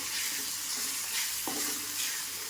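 Goat intestines (boti) fried in a pan with ginger give a steady, close sizzle with a light stirring scrape partway through, no voices.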